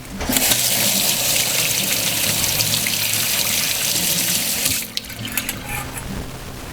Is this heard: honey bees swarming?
no